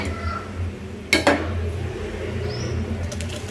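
Metal pot set down on a gas stove in a home kitchen, giving a couple of brief clanks against a low, steady background hum.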